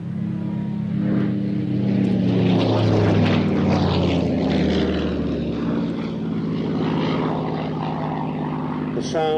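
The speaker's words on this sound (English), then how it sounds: "The sound of a Merlin 45 engine, 1440 horsepower." A Spitfire-type fighter with a 1440-horsepower Merlin 45 engine drones past at an airshow, a loud, steady propeller roar that swells and then fades, with a commentator speaking over it.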